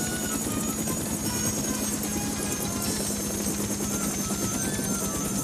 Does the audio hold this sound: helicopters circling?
yes